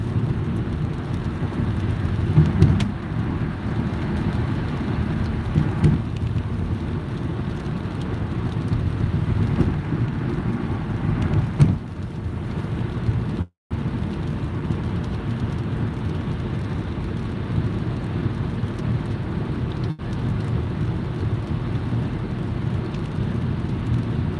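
Rain falls around a car driving in Las Vegas, heard as a steady wash of noise over low road and engine rumble from inside the car, with a brief dropout midway.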